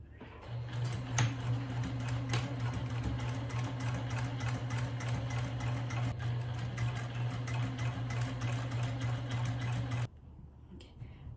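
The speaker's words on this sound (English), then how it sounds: "I'm at the sewing machine here. I'm going to start to sew." A sewing machine hums steadily as it stitches fabric, running continuously for about ten seconds before stopping abruptly, leaving quiet room noise.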